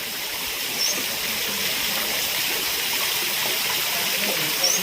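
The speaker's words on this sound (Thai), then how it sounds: "ตอนนี้น้ำมันยังไม่สูงขึ้นมาถึงท่อนะคะ มันก็เลยเสียงดังแบบนี้" Water gushes steadily from a PVC pipe into a garden fountain pond whose level has not yet reached the pipe, making a loud, continuous splashing rush close to the microphone.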